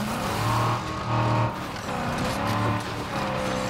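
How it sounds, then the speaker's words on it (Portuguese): Car engine revving hard and droning steadily in the survival video game State of Decay, with swelling engine tones and tire noise as the vehicle speeds along, continuous and close. "Nossa, o carro é rápido."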